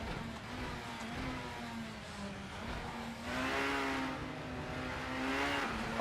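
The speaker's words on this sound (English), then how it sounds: "I love the satisfaction of powering through the gears with my sequential here." A BTCC-era touring car engine revs hard in Assetto Corsa, climbing and dropping in pitch as it shifts up through a sequential gearbox, a steady onboard drone with no talking.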